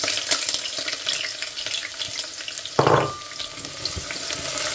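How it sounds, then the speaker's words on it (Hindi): Onion hits hot oil in a home kitchen pan, and a sudden burst of loud sizzling flares then settles into steady crackling frying, close and without talk. "तेल डाल के अब हम इसमें डालेंगे बिस्मिल्लाहिर्रहमानिर्रहीम एक प्याज"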